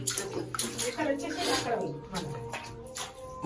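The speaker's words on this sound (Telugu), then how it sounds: "ఈ క్లీన్ వాటర్ పోయాలన్నమాట." Clean water pours steadily into a home sump that had filled with rain and drainage water, a continuous splashing gush with someone talking over it.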